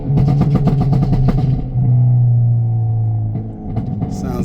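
Hyundai Elantra N revving hard through quick gear shifts, its exhaust letting off a rapid string of sharp pops and cracks between strong engine drones, loud and close from inside the car.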